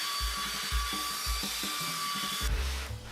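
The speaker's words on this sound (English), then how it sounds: "Then a little massaging with my belt sander." A belt sander smooths the edges of a wooden speaker cabinet, running as a steady high whine. A low rhythmic thumping repeats under it, and the whine stops near the end.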